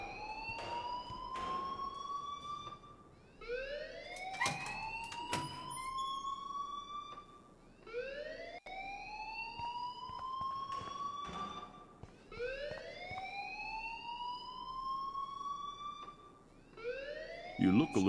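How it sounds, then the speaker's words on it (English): An alarm in the Life is Strange video game wails in repeated rising sweeps, each a couple of seconds long, loud and continuous with brief gaps, running under in-game sounds. "please turn off that alarm since that's your job."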